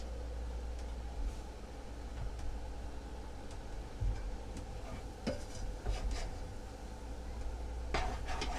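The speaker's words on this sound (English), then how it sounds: "Scraping the bottom." A spoon scrapes and stirs along the bottom of a pot of cheeseburger bacon soup with stock added, making a steady soft scraping rustle with a few sharper clinks near the end.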